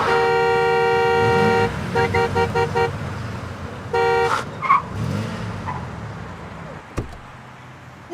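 Car horns blare in Florida road-rage traffic: one long sustained honk, then a rapid series of short toots and another longer blast, over rumbling traffic with a few knocks and thuds after.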